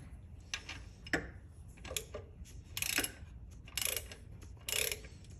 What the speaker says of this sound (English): so grab your ratchet again